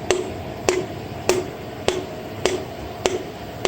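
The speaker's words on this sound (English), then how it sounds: "I just knock the piston in until the rings are in" Seven evenly spaced light taps of a plastic hammer knocking a piston into a Mopar 360 engine block, about one every half second, close and sharp with a brief ringing note.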